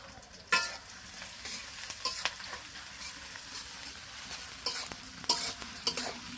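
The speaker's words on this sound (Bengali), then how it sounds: "মশলা পেঁয়াজ ভালোভাবে ভেজে নেব।" Onions frying with whole spices such as cardamom and cinnamon in a pan, a soft steady sizzle with frequent clattering stirs and scrapes of a spoon, close but fairly quiet, no voice.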